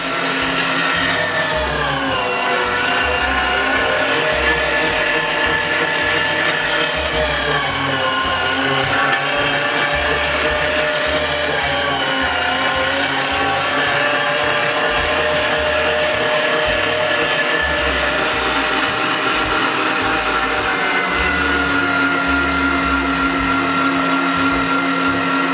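An electric meat grinder mincing softened pork liver for a traditional Transylvanian liver pâté, running in a loud, steady motor drone with wavering pitch for the whole stretch, no talk over it.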